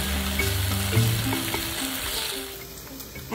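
Pad thai rice noodles and cracked eggs fry in a hot pan while tongs spread the noodles over the eggs, giving a steady, close sizzle with light scraping and stirring, and no talk.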